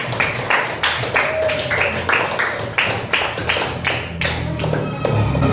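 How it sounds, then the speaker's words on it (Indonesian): An audience claps steadily in a fast, even rhythm after a group presentation, the sharp hand claps near and loud with a low murmur of the room beneath. "Ya, tepuk tangan."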